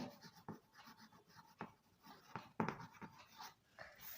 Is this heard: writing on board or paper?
yes